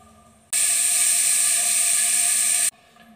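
A pressure cooker of rajma is opened: a sudden loud burst of hissing steam starts abruptly, rushes steadily for about two seconds, then cuts off sharply.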